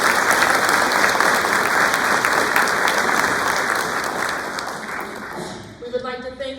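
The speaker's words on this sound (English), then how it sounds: "Please join me in thanking them with a round of applause." Audience applause at a school's National Junior Honor Society induction ceremony in an indoor hall: a crowd claps loudly and continuously, then the clapping thins and fades out as a voice begins speaking at the end.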